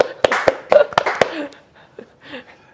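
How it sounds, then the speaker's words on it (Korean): A small group in a classroom-style event gives a short burst of handclaps, several sharp claps in the first second and a half, then tapering to quiet murmuring voices. "박수 쳐주셔서 감사합니다."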